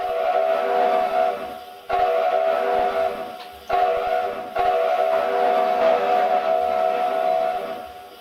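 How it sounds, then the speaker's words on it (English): A QJ steam locomotive in the Trainz video game blows its Chinese five-chime whistle in three long, loud, harmonious blasts separated by brief breaks. "So here's the whistle sounds, another Chinese 5-chime."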